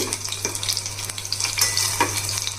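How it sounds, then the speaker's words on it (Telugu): Five or six coarsely crushed garlic cloves frying in hot oil for a sambar tempering, a close, steady crackling sizzle with a low hum beneath it. "ఆయిల్ వేడైన తర్వాత కచ్చపచ్చగా దంచుకున్న ఐదారు వెల్లుల్లి రేకలు వేయాలి"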